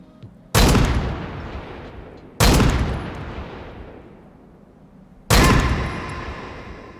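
Three loud Desert Eagle pistol shots in Escape from Tarkov, spaced a couple of seconds apart, each a sharp crack followed by a long decaying echo.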